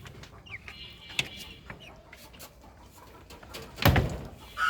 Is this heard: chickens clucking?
yes